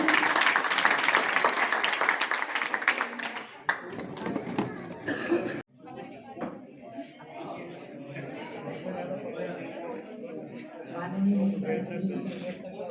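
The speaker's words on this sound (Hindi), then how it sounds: "जोरदार तालियां के लिए" Applause from a school Independence Day program audience, a dense burst of clapping for the first few seconds that dies away into a quieter room with murmuring voices.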